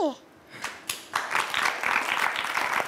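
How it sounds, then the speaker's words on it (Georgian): Applause from a studio audience on a Georgian late-night talk show: a few scattered claps build into steady clapping, heard together with people talking. "აპლოდისმენტები"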